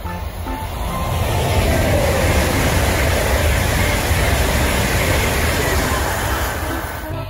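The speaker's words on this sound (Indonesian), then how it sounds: "Ini kereta api." A toy train rumbles steadily with a rhythmic clatter of wheels, loud and close throughout, with no voices.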